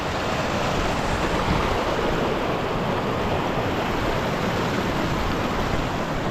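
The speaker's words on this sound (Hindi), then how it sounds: "ये नदी की आवाज़, बहता हुआ पानी" A mountain river rushes beside a trekking path on the way to Kalpeshwar Mandir, a dense, steady roar of flowing water that stays close and constant throughout, with no voices.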